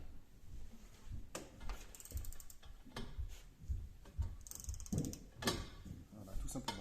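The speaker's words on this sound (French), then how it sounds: "à l'aide de notre douille de 32, voilà, on utilise une rallonge, voilà, ici un tube, donc on vient le placer," A ratchet wrench with a 32 mm socket and an extension tube works loose a driveshaft nut on a Ford Connect, giving scattered metallic clicks and clanks with short pauses between them, close by and with no talk.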